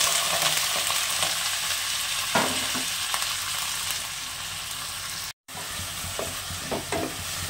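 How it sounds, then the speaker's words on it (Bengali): Bitter gourd, potato and onion fry in hot mustard oil in a karai wok, with a constant close sizzle broken by stirring scrapes and a momentary dropout. "প্রথমে কড়াতে সর্ষের তেল দিয়ে দিয়েছি, তেলটা গরম হয়ে গেছে। এবারে উচ্ছে আলু আর পেঁয়াজটা দিয়ে দেবো।"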